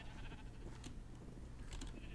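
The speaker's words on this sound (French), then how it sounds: "Moi ici j'essaye de rameuter les moutons qui sont." Sheep bleating in the video game Minecraft, a couple of short nasal calls over steady low background noise, fairly quiet and with no voices.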